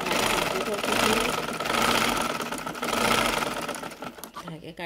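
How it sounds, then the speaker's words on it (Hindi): A sewing machine stitches lace onto the slit of a kurti in a steady, loud mechanical run. Its rhythm swells and eases across several bursts, and the running stops briefly near the end. "अब हम इसकी आस्तीन की सिलाई कर लेंगे, पक्का करेंगे यहाँ से हम"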